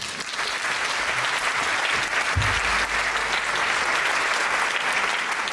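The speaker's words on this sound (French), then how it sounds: "Notamment Colette Brackman, que je vous demande d'applaudir." A conference audience in Belgium applauds steadily as a debate participant is welcomed onstage, a continuous wash of many hands clapping at an even, fairly loud level for several seconds.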